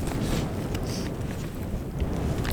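Strong wind blows steadily outdoors in the Arizona mountains during a mule deer hunt, a loud, unbroken rumbling rush buffeting the microphone with slight gusts and no voices.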